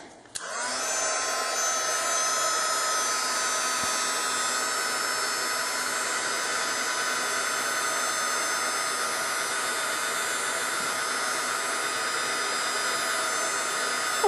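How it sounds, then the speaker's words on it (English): A handheld craft heat tool blows steadily for the full length, setting clear embossing powder on stamped card images; a loud, continuous whooshing hiss starts sharply after a brief click and holds even, with no talking. "I'm just going to go ahead and heat set all of these images here"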